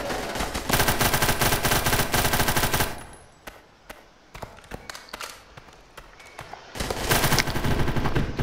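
Rapid automatic gunfire in the Roblox game Blackhawk Rescue Mission 5, dense bursts, loud and close, then a quieter stretch of scattered single shots before heavy firing resumes.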